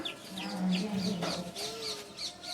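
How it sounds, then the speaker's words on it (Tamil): Chickens cluck and chirp softly in a farmyard, with a hen's low calls and a few higher peeps from chicks, fairly close. "கோழி பார்த்திங்கன்னா கோழி குஞ்சோடு இருக்குது"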